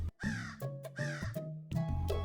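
A cartoon crow in a kids' story about a thirsty crow caws three times, loud, close and harsh, with a steady rhythm.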